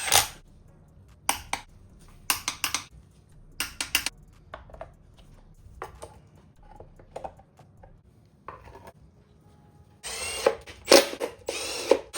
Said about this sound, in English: Torque them down to 13 foot-pounds.